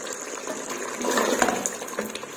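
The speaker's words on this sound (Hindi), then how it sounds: "अब हम इसमें 3 से 4 चम्मच तेल डालेंगे" Three to four spoonfuls of cooking oil poured into a pot of simmering beef curry with ridge gourd, a steady close liquid splash and sizzle lasting a couple of seconds.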